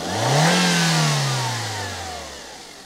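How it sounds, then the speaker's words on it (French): A car engine fitted with an E85 ethanol kit revs up sharply in a single close, loud blip, its pitch rising and then sliding smoothly back down toward idle. "Vas-y, accélère."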